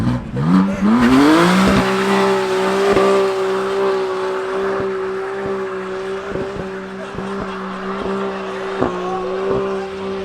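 Car doing a burnout at a stance car party: a loud, sustained engine roar climbs in pitch and then holds at high revs with steady tire squeal for about ten seconds, with crowd noise and some talk in the background.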